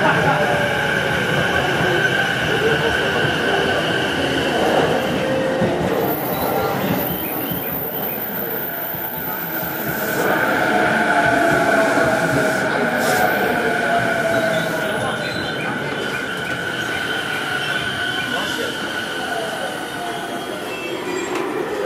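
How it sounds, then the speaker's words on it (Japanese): A Keihin-Tohoku Line train pulling into a Tokyo station platform, a loud rumble of wheels and cars with squealing brakes, building and easing as it slows, while station announcements play over it. "4番線は京浜東北線大宮行きの到着です。"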